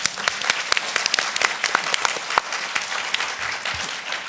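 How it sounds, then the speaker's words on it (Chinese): An audience at a school anniversary lecture on Hong Kong media gives a sustained round of applause, dense clapping filling the room without a break. "咪應該再鼓掌一次啊！"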